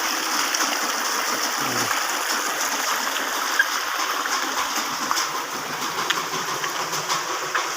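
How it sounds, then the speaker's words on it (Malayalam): Floodwater rushes through a swollen stream in a steady, close, roaring wash with occasional small splashes and no talk. "ഇവിടെ എല്ലാം ഒഴുകുന്നുണ്ട് വെള്ളം വെള്ളം നല്ല വെള്ളവും നല്ല ഒഴുക്കുണ്ട്"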